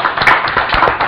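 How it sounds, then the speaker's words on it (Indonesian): An audience claps for guest Pak Tanri Abeng at a business discussion event; a brief burst of dense applause, close and fairly loud, with no voices. "Kita beri tepuk tangan Pak Tanri Abeng."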